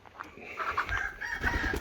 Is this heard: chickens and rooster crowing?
yes